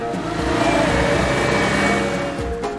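A truck engine hauling a load of Islamic boarding-school students in North Sumatra, running steadily loud and close with a slight rise in revs, no voices over it.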